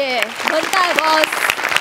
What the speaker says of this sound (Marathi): त्यामुळं एकदा सगळ्या रायटर्ससाठी जोरदार टाळ्या.